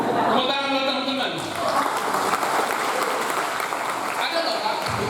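Audience clapping at a seminar on drug abuse awareness, steady and fairly loud, with a voice speaking over the opening moments and some tonal sound at the start and end.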